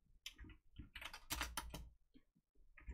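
Typing on a computer keyboard while setting up a Japanese input method on Linux, heard as bursts of close, crisp key clicks in irregular clusters, loudest in the middle, with brief pauses between runs.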